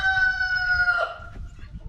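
A rooster's crow tails off into a long, wavering final note. The bird sounds fairly close, with low background noise beneath it.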